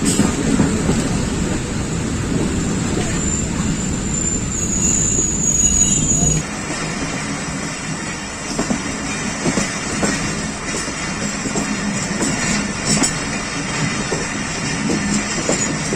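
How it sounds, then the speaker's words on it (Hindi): Pakistan Express train rolling into Chaklala station about half an hour late, a continuous loud rumble of rail cars with high squealing wheels and steady clatter throughout, heard from on board with no clear talking. "चकलाला आमद हो गई है जी 45 आप पाकिस्तान एक्सप्रेस की, तकरीबन आधा घंटा लेट।"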